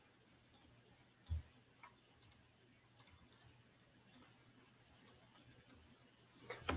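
Faint, sparse clicks from a computer mouse come at irregular intervals over a quiet background hum, with a few quick doubled clicks near the end.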